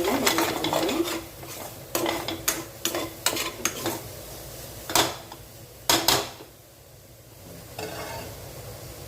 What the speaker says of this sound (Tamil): தேங்காய் துருவல் சேர்த்து கொஞ்சம் நேரம் வதக்கிக்கணும்.